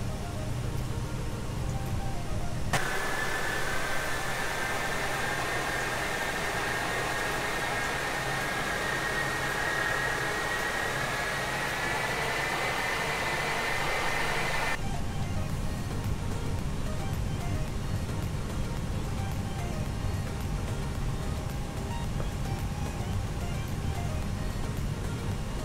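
Airbus A319 auxiliary power unit spooling up in the X-Plane 11 flight simulator, a sudden rise into a loud steady roar with a whining tone that holds, then drops back to a lower constant rumble.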